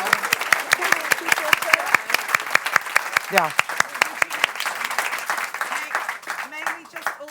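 An audience applauds a panel after a discussion about art in East Anglia, steady dense clapping running throughout, with a voice speaking briefly over it.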